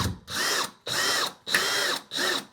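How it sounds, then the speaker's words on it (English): A power drill drives screws for a TV wall mount, four whirring bursts of about half a second each with short pauses between, loud and close, with no voices. "I got 2 of those screws in there, and I'm going to go ahead and do these other 2 real quick"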